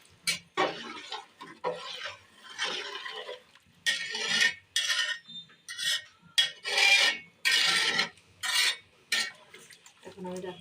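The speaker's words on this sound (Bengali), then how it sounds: "সব উপকরণ একসাথে মিশিয়ে নেড়ে ছেড়ে অ্যাড করে নিচ্ছি।" Ingredients for a broiler-chicken biryani are stirred together in a cooking pot, with repeated scraping and clinking strokes in irregular bursts, fairly close and moderately loud, with no talk over them.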